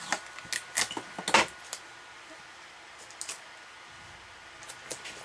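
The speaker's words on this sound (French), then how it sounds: "je viens bloquer avec du scotch." Crinkly adhesive tape sounds as tape secures a ribbon on a paper star album craft: quick tearing and sticking noises cluster early, then a few faint taps and presses follow, close by with no talking.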